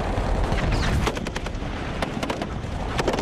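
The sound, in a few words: gunfire during a mass attack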